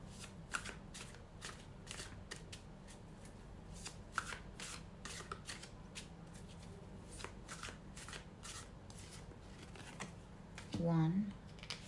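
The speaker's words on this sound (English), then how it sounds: "Now we're getting into our tarot decks." A deck of tarot cards is shuffled repeatedly at close range, rapid riffling bursts of papery slaps with brief pauses between, ending in a short tonal sound.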